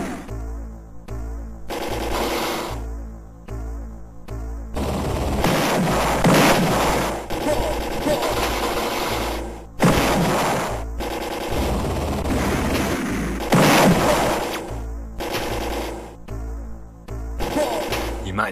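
Rifle and shotgun fire in the Amiga shooting game Take 'Em Out, rapid bursts of digitized gunshots and blasts in fast repeated volleys, loud and dense, broken by brief pauses.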